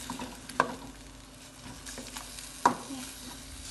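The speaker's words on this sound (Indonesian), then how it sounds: "Terus aku bakalan aduk dulu." Food being stirred in a pan over a low steady sizzle, with a few sharp utensil scrapes and clinks against the pan, fairly quiet and without talk.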